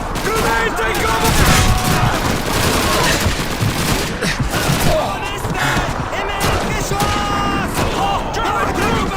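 Dense gunfire from a Call of Duty 2 battle: fusillades of rifle and machine-gun shots rattle nonstop and loud, with shouted voices mixed into the combat.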